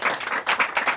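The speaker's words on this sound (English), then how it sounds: "so if we can give them a round of applause" Audience at a film and TV finance panel clapping for the panelists, a short, moderately loud burst of hand claps with a couple of rising swells.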